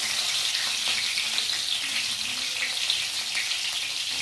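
Cumin and green chillies sizzle in hot oil in a home kitchen, giving a continuous crackling fry at moderate level with faint stirring and no voices.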